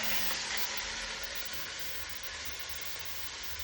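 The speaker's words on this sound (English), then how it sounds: "I'm kind of standing here holding it just so that I get all the edges a little bit browned." Beef short ribs sizzle steadily while browning in a hot pan, a constant, fairly loud hiss and crackle of frying fat lasting the whole moment with no talking.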